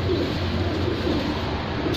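Flying-breed pigeons for sale in Jhelum coo softly and repeatedly, with low throaty murmurs over steady background noise and no speech in between.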